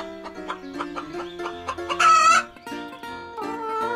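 A toy diorama rooster clucks repeatedly, then lets out a loud crow, with more clucking after it.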